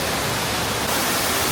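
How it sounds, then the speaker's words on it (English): Indoor waterfall at the National Aquarium in Baltimore, a steady, loud, broadband rush of falling water filling the space without a break. "this is the waterfall we saw when we first came in"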